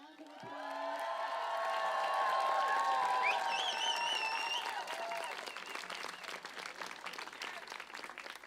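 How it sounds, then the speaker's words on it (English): Festival audience applauding at a stage event, a dense roar of clapping that swells and holds then slowly thins, with whistles and a voice over the crowd. "Round of applause."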